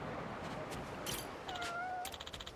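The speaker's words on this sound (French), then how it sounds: "Ah, et le chat est un ami." A cat meows in the video game Like a Dragon: Infinite Wealth, a short drawn-out mew over background game ambience and chimes, fairly close and alone without talking.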